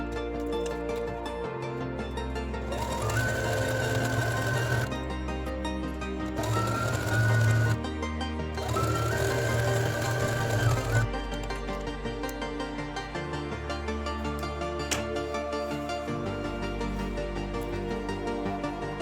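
A sewing machine runs a zigzag seam on a skirt in several bursts of steady mechanical stitching, each a few seconds long, close and clear, with short stops between runs and no talking.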